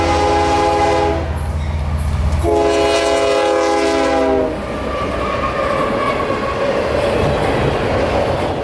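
A CSX freight train, Q213, thunders past at close range, its horn blaring in two long blasts before giving way to the loud, steady rumble and clatter of rolling cars.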